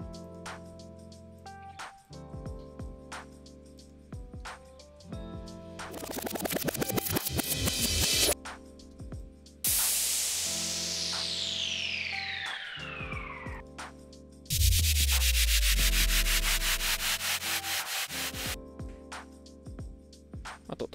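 A studio music arrangement layered with effects: cymbal crashes, long noise swells, a falling sweep and a deep sub-bass drop over a steady electronic rhythm, loud and continuous for about twenty seconds.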